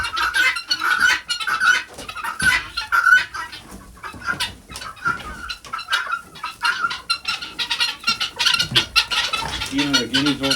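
Guinea fowl and chickens calling in a farm coop on an icy winter day, a busy, overlapping chorus of close clucks and sharp repeated cries that rise and fall without pause.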